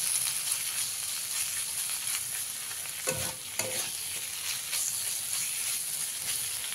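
Snake gourd with green chili fries in a pan over a medium flame, giving a steady close sizzle with repeated stirring scrapes, one louder stir in the middle, and no talking.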